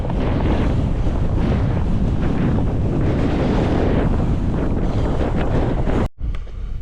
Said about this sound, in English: It's so blustery and windy